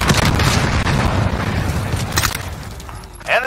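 In Call of Duty Modern Warfare, a set explosive charge detonates with a loud booming burst at the start, its rumble trailing off, followed by a sharp metallic clank near the end.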